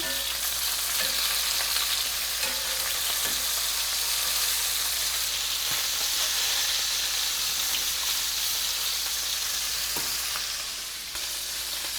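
Chicken pieces browning in a frying pan for arroz con pollo hiss and sizzle steadily at close range, without talk, easing slightly near the end.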